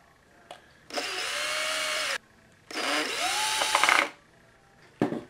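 A drill drives number 6 by 1/2 inch screws into the bottom of a small cable tester case: two sustained whirring bursts of about a second each, close and loud, with small clicks before and after.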